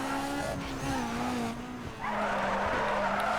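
A modified Mitsubishi Lancer drifts in Need for Speed: Underground 2, its tires squealing in long, loud, wavering screeches over a revving engine, with a short break before the screech starts again.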